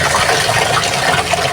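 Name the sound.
running water while bathing Garfield the dog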